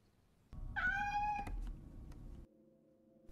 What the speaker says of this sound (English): A cat has got into the house.